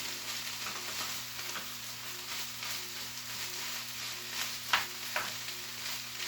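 Bacon warms in a pan of buttery braised vegetables with a soft, steady sizzle. A couple of faint clinks from the pan cut through near the end.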